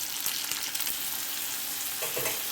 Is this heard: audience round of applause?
no